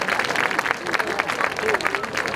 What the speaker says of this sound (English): please, a great big round of applause for our seniors and their families